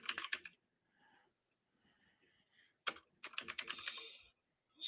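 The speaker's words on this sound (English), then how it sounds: "Why is my keyboard not working?" Typing on a computer keyboard: quick bursts of close, crisp keystroke clicks separated by pauses, with faint, murky background sound in the gaps.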